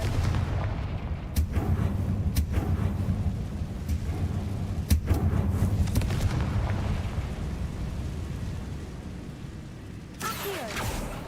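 Confringo fire-blast spell explosions in Hogwarts Legacy go off as several sharp, booming blasts spaced a second or two apart over a low, rumbling background, with a brighter burst near the end.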